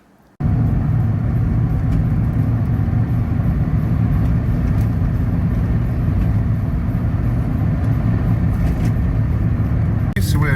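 A camper van pulls slowly into a Morrisons supermarket car park on an industrial estate in Spalding, its engine a steady close low rumble with road noise throughout, starting abruptly after a brief quiet moment.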